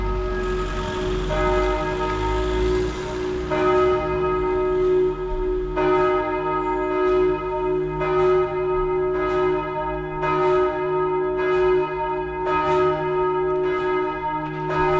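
Church bells ring in a steady, repeated peal, each strike ringing out and overlapping the last, loud and resonant against a faint background hiss.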